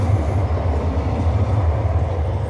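A tram on an Oslo city street rolls past with a steady, loud low rumble and rail noise, continuous throughout with no voices.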